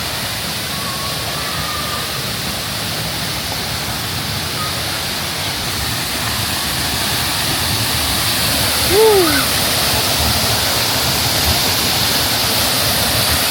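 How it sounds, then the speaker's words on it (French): A waterfall on Lombok island, Indonesia, gives off a loud, steady broadband roar close by, with a brief faint sound rising over it partway through. "On arrive à la première cascade."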